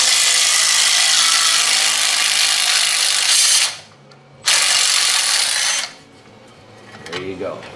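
An impact wrench hammers loudly up close at a backing plate retainer on the axle of a 1985 Buick Regal being built with a big block, a long burst, a short pause, then another burst that cuts off.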